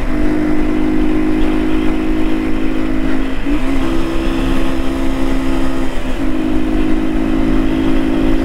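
A Yamaha KW200 motorcycle engine runs loud and close with a steady drone, pitch rising in two short revs partway through before settling back to an even hum.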